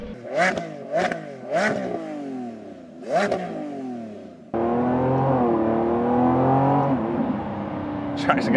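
A Lamborghini Revuelto's 1015 hp V12 blips several times in sharp rising revs, then settles into a sustained loud engine drone as the car pulls away, close and clear, with a brief mechanical clatter near the end.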